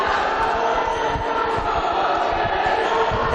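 Loud, dense crowd noise from spectators at a varsity court sports match between Keele and Staffs, a steady wall of shouting and screaming voices throughout with no pauses.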